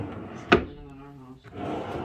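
A metal drawer in a Hampton Inn hotel room opens with one sharp clack, followed by a low scrape and soft background voices.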